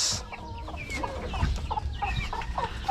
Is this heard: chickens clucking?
yes